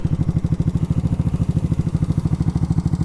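Small 200-pound motorcycle with a freshly rebuilt engine idling roughly up close, a steady low chugging pulse with slightly uneven firing, heard alone.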